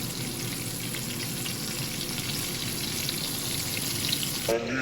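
Chicken fried steak made from cube steak sizzles steadily in a deep fryer, a dense, continuous crackling hiss held close and loud for several seconds, with a brief clatter near the end.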